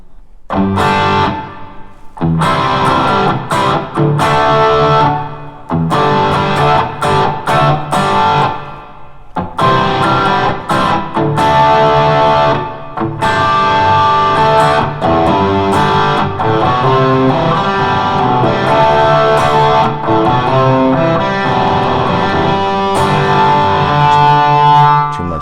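A Gibson SG electric guitar with hot pickups, heavily distorted, plays continuously and loudly, with chunky chords and sustained, gritty notes.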